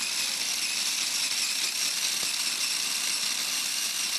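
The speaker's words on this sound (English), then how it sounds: "We're going to grind this into a dust." An electric grinder whirs continuously at high speed, reducing aromatic spices to fine dust, a steady loud bright whine with no pauses or voices.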